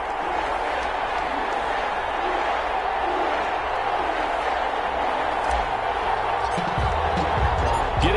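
A stadium crowd in an EA Sports NFL game before a Pittsburgh Steelers versus New Orleans Saints matchup, a steady, dense roar of cheering and murmuring that holds at a constant level, with a faint low thump near the end.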